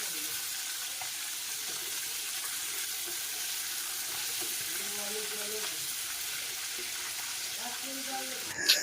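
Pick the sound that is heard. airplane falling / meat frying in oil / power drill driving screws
meat frying in oil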